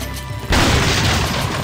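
A single loud, booming pistol gunshot in the video game Resident Evil 4 cracks out suddenly and leaves a brief rumbling tail.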